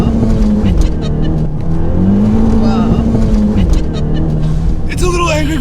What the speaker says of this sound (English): That rev limiter kicked in way too quick.